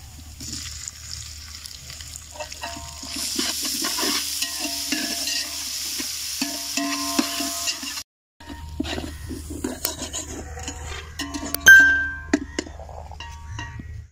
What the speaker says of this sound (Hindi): तो अब इसमें अदरक लहसन और हरी मिर्च का पेस्ट शामिल कर देगा